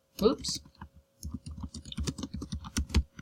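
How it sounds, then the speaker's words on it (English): Keys clatter on a computer keyboard in quick, irregular bursts of clicks while a person talks over the typing. "I add a new discussion topic, and I type in causes"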